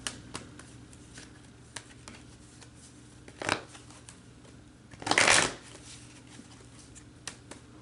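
Energy oracle cards being shuffled by hand, quiet riffling with a few soft taps and two louder bursts of card riffles, close and alone.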